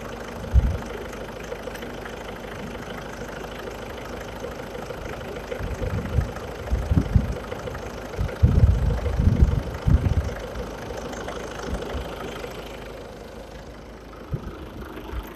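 A TDI diesel car engine idles steadily with a low, even rumble, rising briefly into a rougher, louder throb midway before settling back to a quiet idle; no voices.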